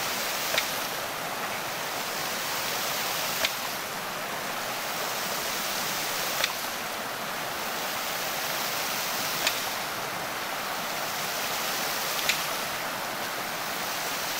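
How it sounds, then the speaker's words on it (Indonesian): A hydram water pump runs with water rushing steadily and loudly, while a sharp valve knock sounds about every three seconds at an even pace. No one speaks. "Kita coba uji pompanya."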